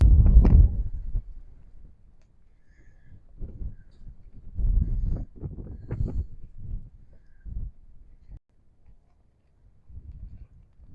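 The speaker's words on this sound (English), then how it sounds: "Out here in the wind, still windy." Gusty wind in Quartzsite buffets the microphone in uneven low rumbling bursts, strongest at the start, then fading in and out with quiet gaps between.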